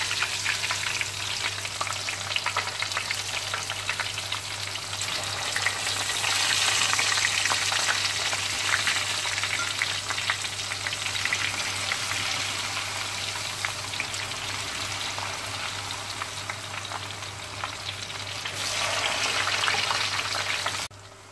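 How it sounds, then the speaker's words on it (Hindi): Aubergine slices deep frying in hot oil for lasagna, a loud, continuous crackling sizzle with dense popping, swelling briefly stronger in places and holding steady for a long stretch. "अब जो है जो आपके बैंगन के स्लाइसेस हैं उसको हम डीप फ्राई कर लेते हैं।"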